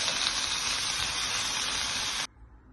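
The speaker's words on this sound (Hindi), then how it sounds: "तो पालक को सॉटे करके हमने इसमें डाल दिया।" Spinach sautéing in a pan with spluttering mustard seeds gives a loud, dense sizzle that holds steady for just over two seconds, then cuts off to a faint hiss.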